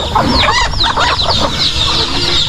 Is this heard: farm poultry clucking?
yes